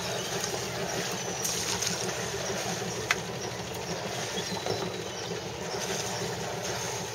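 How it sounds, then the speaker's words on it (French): A sailboat's engine runs steadily at close range, a continuous low rumble with water noise around it and no break over the whole stretch. "mais c'est vrai qu'on entend le moteur."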